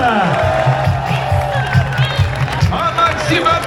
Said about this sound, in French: on applaudit la Joëlette